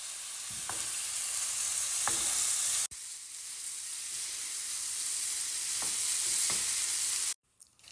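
Chicken strips with diced onion and bell pepper fry in a pan, giving a steady loud sizzle with a few stirring scrapes before the sound cuts out near the end.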